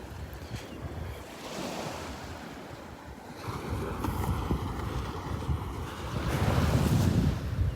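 Ocean surf washes onto the beach at Delnor-Wiggins, a broad rolling roar that swells louder toward the end, mixed with wind buffeting the microphone.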